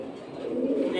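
Pigeons at a pigeon market selling high-flying breeds, a brief low soft cooing close by, heard alongside someone talking.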